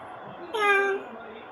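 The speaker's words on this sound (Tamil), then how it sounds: "மியாவ்" A cat meows once, a short clear tonal call standing out close against a quiet room background, with silence before and after.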